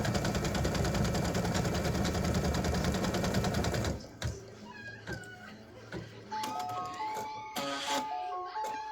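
An embroidery machine stitches the loops of a freestanding-lace candy cane earring with a steady, rapid mechanical hum that stops abruptly partway through. Quieter scattered clicks and faint high chirps follow.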